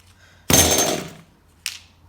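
Pull-start cord yanked on a Kyosho DST RC car's nitro engine, a sharp close ripping whir lasting under a second, followed by a shorter second rasp, with no sustained running.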